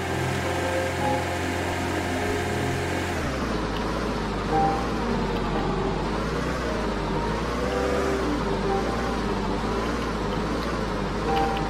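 Car driving in the Roblox game Lumber Tycoon 2: a steady engine drone that shifts to a deeper, fuller tone a few seconds in and then wavers with throttle, continuous and close with no talking.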